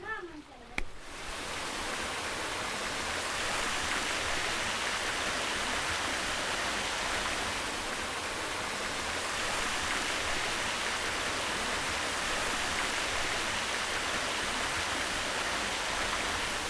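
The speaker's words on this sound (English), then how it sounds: "And here we are at Bigar Waterfall, considered one of the most beautiful waterfalls in the world." Bigar Waterfall in Romania roars as a steady, dense rush of falling water, loud and continuous throughout after a brief quieter moment at the start.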